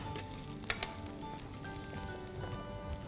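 Ground moong dal roasting in a pan with fennel, ginger, coriander powder and chopped green chilli for kachori filling, giving a soft steady sizzle with a couple of brief utensil clicks, close and fairly quiet.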